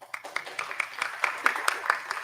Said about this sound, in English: May we have one more round of applause